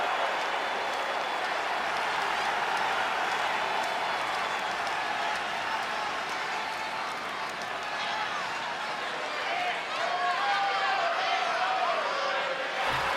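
A large wrestling arena crowd in the video game WWE 2K20 roars and cheers steadily throughout, a dense wash of noise with scattered shouts and a swell near the end.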